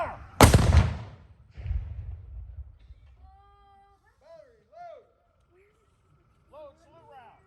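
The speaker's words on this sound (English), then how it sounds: "Fire one round for all those who died in the War of 1812." A ceremonial rifle volley fired as a Memorial Day salute for the War of 1812 dead: one sharp, loud crack with a short rumbling echo, then a fainter second report and quiet outdoor ambience with distant voices and whistle-like tones.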